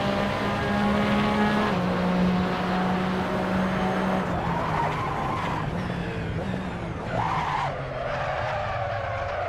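Porsche 911 RSR on cold tires in Assetto Corsa, engine droning loud throughout while the tires squeal and skid under heavy braking, with a couple of downshift blips near the end.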